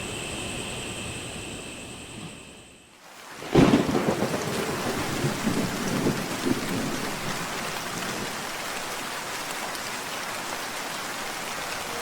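A heavy thunderstorm with rain: a steady hiss of falling rain is broken by a loud thunderclap that rumbles on for several seconds, leaving continuous rain noise behind.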